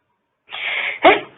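A single sharp sneeze close to the microphone, a brief hissing intake followed by an explosive burst, alone in otherwise quiet surroundings.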